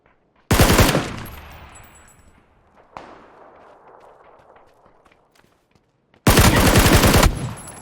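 Gunfire in the PUBG battle royale game, including a pump shotgun: two loud, sharp blasts about six seconds apart, each followed by a long reverberant tail fading into quiet. No talk.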